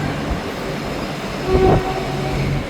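A train rumbles steadily into South Bank station in Brisbane, Australia, with a swell of wheel and horn-like tones midway, loud and close, no talking.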